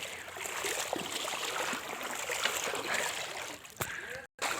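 Someone wades through knee-deep flood water pushing a bicycle after heavy rain, heard as continuous close sloshing and splashing with a brief dropout near the end.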